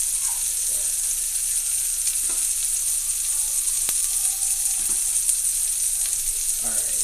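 Fries and onion rings frying in hot oil give off a steady, close sizzling hiss that runs unbroken the whole time, with a few faint clicks and no talking.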